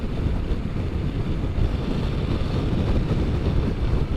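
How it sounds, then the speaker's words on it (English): Steady, loud wind roar buffets the microphone while riding a Kawasaki H2 SX SE motorcycle on an open highway into a 20 to 30 mph headwind, a continuous low rushing blast with no let-up. "We have about a 20 to 30 mile an hour wind today"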